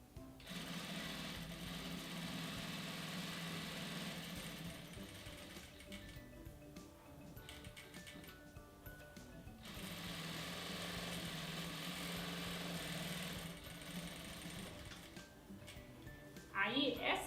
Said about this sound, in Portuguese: vou passar uma costurinha de um lado e do outro